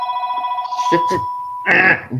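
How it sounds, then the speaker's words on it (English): A mobile phone rings with a blocked incoming call, a steady bright electronic tone repeating through the first part before voices talk over it and it cuts off. "It's Andrew's phone. And it's a block call nonetheless."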